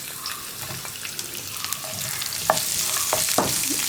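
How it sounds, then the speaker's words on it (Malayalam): Sliced onions for a Kerala chickpea curry fry in hot oil with a continuous soft sizzle, punctuated by scraping and tapping as a spoon stirs them around the pan. "ഇനി സവോള ഒന്ന് ഡാർക്ക് കളറായി വരുന്നത് വരെ നമ്മൾ ഇളക്കി കൊടുക്കുക."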